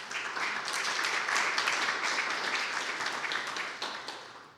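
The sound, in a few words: audience applause for museum staff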